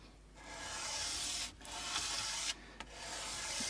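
A part of a 1963/4 Gibson Melody Maker guitar is sanded with worn coarse sandpaper in long, continuous abrasive strokes, close and loud, with a couple of brief breaks and no talking.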